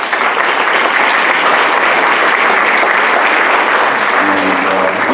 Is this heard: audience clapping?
yes